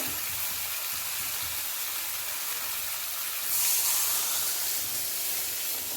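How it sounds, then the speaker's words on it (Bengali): Water poured into hot fried potato-spice masala in a pan for a fish curry, a loud continuous sizzling hiss with steam that surges briefly as more water hits the hot oil. "আলু মশলাটা বেশ ভাজা ভাজা হয়ে গেছে, এখন ঝোলের জন্য হালকা করে জল দিয়ে দেবো"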